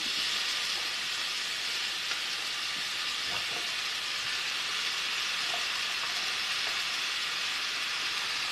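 Half a kilo of chicken sizzles steadily in a pan of browned onions for a mayonnaise chicken dish, a continuous broadband frying hiss with occasional soft stirring clatter, close and moderately loud, no voices.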